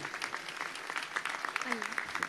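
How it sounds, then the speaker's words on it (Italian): Audience at an award ceremony clapping for a young girl poet, a quiet patter of applause with voices calling out over it. "Un applauso a questa grande bambina."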